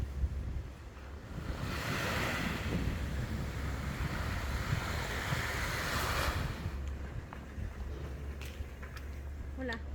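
Ocean surf rolls onto the beach at a resort lined with private bungalows, a broad steady wash of breaking waves mixed with wind buffeting the microphone, then easing toward the end.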